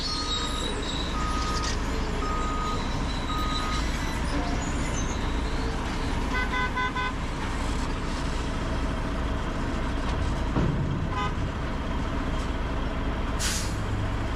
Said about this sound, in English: people starting to blow the horn and get aggravated